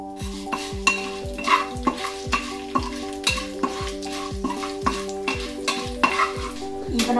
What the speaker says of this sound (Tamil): இந்த சுண்டைக்காயை வதக்கின எண்ணெயிலே நம்ம வந்து பெருங்காயம், உளுந்து, மிளகு இதெல்லாத்தையும் சேர்த்து போட்டு வறுத்தரலாம்.